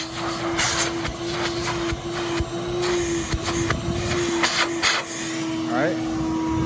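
Gutter vacuum running with a steady, loud whining motor hum and strong suction noise close by, while someone talks over it.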